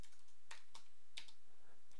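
Quiet clicking of keys on a computer keyboard while coding, a few sharp isolated keystrokes spaced irregularly over a soft background, with no talk.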